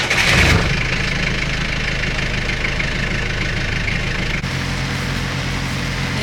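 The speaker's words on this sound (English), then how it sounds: "So we're gonna start the engine and pull up the anchor." A sailboat's inboard engine turns over with a brief loud burst at start-up, then settles into a steady, rumbling idle that continues at close range.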